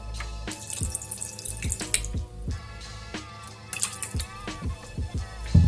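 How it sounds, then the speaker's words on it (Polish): Water trickles and splashes into a Thermomix mixing bowl with irregular drips and pours throughout, close and moderately quiet, no voices. "Teraz do naczynia miksującego wlewam 60 g wody."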